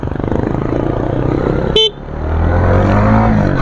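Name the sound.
motorcycle horn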